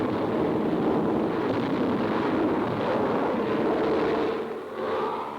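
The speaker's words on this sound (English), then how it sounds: "The explosions look like the real thing." Practice chalk bombs dropped from army planes during wartime bombardier training burst into a continuous, rumbling roar of blasts and wind, heavy and steady with a slight dip near the end.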